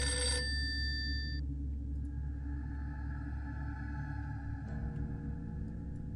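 A telephone rings with a bright electronic trill over a low, rumbling horror-radio music bed, the ring fading after about a second while the dark drone continues steadily beneath.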